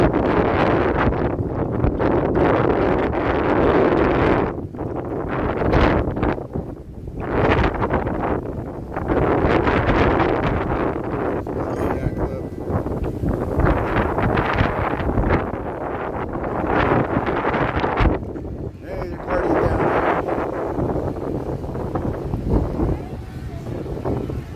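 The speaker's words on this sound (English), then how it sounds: "It's pretty windy. I know it's hard to hear me." Strong gusting wind on the Chicago lakefront near Monroe Harbor, roaring and buffeting the microphone in a continuous loud rush that swells and dips throughout.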